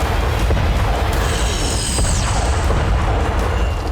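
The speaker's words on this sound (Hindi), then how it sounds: "युद्धपोत में लगी तोपें गरज रही थी।" Heavy warship cannons boom and rumble in a continuous dense barrage, loud and close, with deep low roar and crashing bursts layered over one another.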